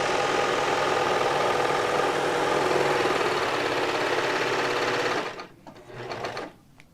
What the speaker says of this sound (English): You can run a test sew off to make sure your stitch looks right before you go on your project.